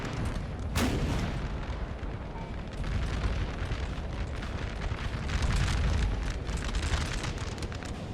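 Battlefield booms and cannon blasts from Napoleonic artillery in the Napoleon: Total War game make a dense, continuous rumble of distant gunfire. A sharper blast sounds near the start, and no one talks.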